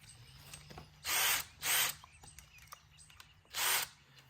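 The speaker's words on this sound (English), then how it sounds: "You're gonna need to drill a hole at the bottom, just going up straight, not all the way through" Three loud, near bursts of a power drill boring into wood with a 3/8 or 1/2 inch bit, each lasting about half a second, over a quiet background with faint birdsong.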